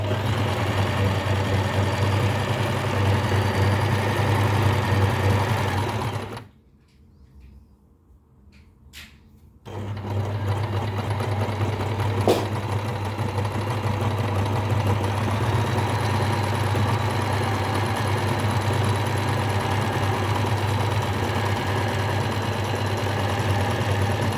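A sewing machine runs steadily, stitching zigzag on cotton jersey fabric. The whirring drone is loud and close, breaks off briefly for a few seconds, then resumes and continues unchanged.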